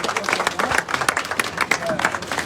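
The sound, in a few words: crowd applauding to welcome Hardeep Singh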